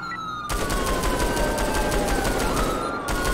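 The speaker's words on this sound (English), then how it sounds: "King 50 shots fired." Rapid gunfire in a police roleplay video game fills the whole stretch, a loud, steady volley of shots with a siren-like tone gliding over it. No one speaks.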